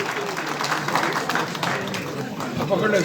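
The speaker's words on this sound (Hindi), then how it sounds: "इनके लिए भरपूर तालियां बजाएंगे मलिक इब्रार साहब के लिए" Steady crowd applause at a PML-N Christmas celebration, dense clapping for Malik Ibrar, continuous and moderately loud, with an indistinct voice over it.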